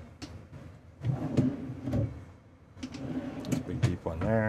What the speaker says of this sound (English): Beefy drawers on ball bearing slides.